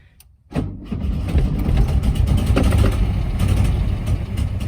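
A 1971 Volkswagen Karmann Ghia engine catches after a short quiet moment and settles into a loud, steady, buzzing idle that runs close by without a break.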